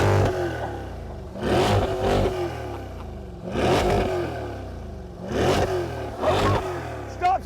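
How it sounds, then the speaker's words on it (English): A Corvette C8 Stingray's engine revs hard through its exhaust in repeated bursts, each sharp rise dropping back to a throbbing idle, loud and close, with roughly four throttle blips in sequence. "you get an even nicer sound from the exhaust. So let's hear it. Go on, start it up."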